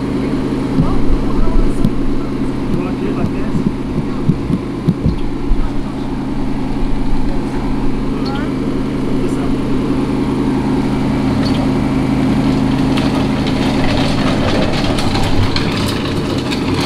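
A heavy portable generator runs at a worksite where a shed wall is being framed, giving a loud, steady droning hum throughout with voices heard over it.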